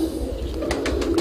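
Iranian pigeons coo softly with a few brief throaty pulses over a steady low hum, close by and moderately loud, no voices.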